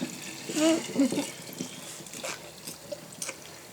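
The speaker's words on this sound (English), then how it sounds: "We're going to pour in the rest of this kombucha." Kombucha poured into a jar in a home kitchen, giving a few short, soft liquid splashes and trickles near the start, then faint scattered drips.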